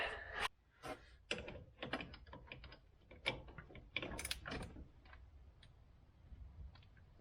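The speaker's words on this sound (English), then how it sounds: "I'll try popping a ratchet on that" A ratchet wrench loosens a stubborn bolt under the exhaust manifold of a 5.4L 3-valve V8 in a Ford F150 FX4, giving bursts of quick, close clicking separated by short pauses.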